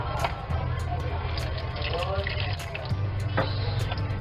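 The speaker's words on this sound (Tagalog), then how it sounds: "Lagyan natin ang tubig. Tingnan natin kung saan siya agos." Water runs from a tap into a newly installed sink in a tiny-house kitchen and drains away, a continuous close splashing and trickling while a person talks over it.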